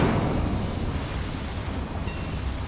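Fire spell blast from Hogwarts Legacy on PS5, a loud, dense roaring burst of flame that fills the clip and fades slightly without any voices.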